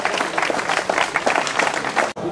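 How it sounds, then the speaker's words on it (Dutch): A crowd at a cycling race prize ceremony claps steadily for the overall winners, a dense run of applause that cuts off abruptly near the end. "Uw applaus nogmaals voor de eindwinnaar Sjors Luchthart"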